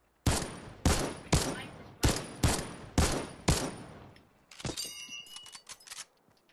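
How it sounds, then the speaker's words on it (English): Rifle fire in Fortnite: six loud, evenly spaced single shots ring out close by, each with a sharp crack and ringing tail, followed by softer clattering mechanical sounds. "I freaking love the infantry rifle."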